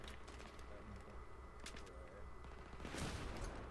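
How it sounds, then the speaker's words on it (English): Gunfire in a Battlefield 3 match with an M98B sniper rifle in play: faint, distant bursts of shots and crackling over a rumbling battlefield, swelling into a louder blast toward the end. "Getting shot out from the side."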